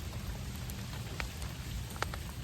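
Steady rain falls while mushrooms are picked outdoors, a dense close patter of drops with a few sharper nearby splashes and no talking.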